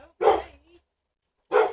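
A household dog barks twice indoors, a loud bark and a short follow-up, then a pause before another single bark, with no talking over it.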